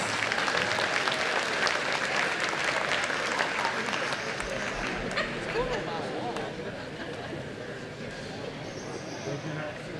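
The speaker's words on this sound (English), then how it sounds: "Please give her a big round of applause." Audience applause at a chamber of commerce annual banquet, steady and full at first, then thinning gradually as scattered chatter rises underneath.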